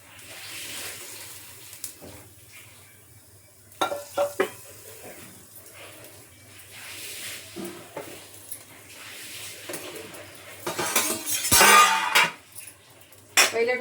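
Dosa batter cooks on a hot griddle in a home kitchen, with a soft sizzle and occasional clinks of utensils and pans. A louder burst of frying near the end suggests fresh batter hitting the heated surface.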